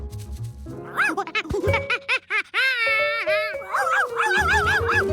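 A cartoon puppy whimpers and howls in a string of rising and falling high-pitched cries, some short yips and longer wavering howls, close and fairly loud.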